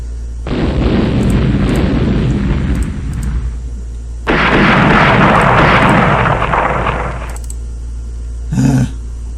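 Torpedo explosions sinking ships in the naval strategy game Rule the Waves: two long, loud, rumbling blasts, each lasting a few seconds, followed by a short sharp pop at the end, with no talk.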